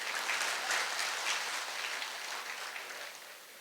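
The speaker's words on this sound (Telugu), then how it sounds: "చప్పట్లు చెప్పండి అయ్యా" Audience applause fills the hall steadily from start to finish, a dense wash of many hands clapping at a fairly even level that eases slightly toward the end, with no talking over it.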